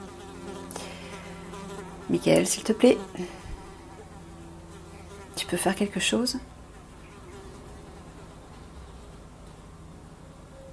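A housefly buzzes near the microphone in two loud, erratic bursts, zipping close and then away, over a quiet background while someone speaks in French.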